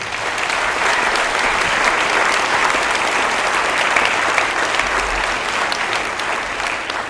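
An audience at a school space-project show applauds staff, a dense, loud, steady wash of clapping from many hands that carries through the whole stretch without talk.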